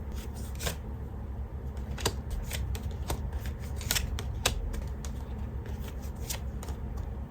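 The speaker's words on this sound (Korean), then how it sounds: "이제 여러분을 위한 연애 조언 카드 같이 한번 뽑아볼게요" Tarot cards being shuffled and drawn for a love reading, giving a steady run of soft papery flicks and riffles with sharper card snaps scattered through, close by and with no talking.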